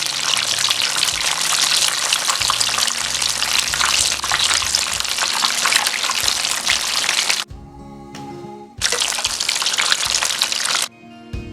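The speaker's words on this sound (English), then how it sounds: "Listen to the sizzle, it's so satisfying." Mac and cheese bites fry in hot oil with a loud, steady, crackling sizzle. The hiss drops away briefly twice, then comes back just as strong.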